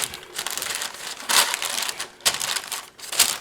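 Granola bar mixture with chocolate chips being pressed down into a parchment-lined pan, giving a steady crunchy, crinkling crush with louder surges roughly every second, close and with no talk.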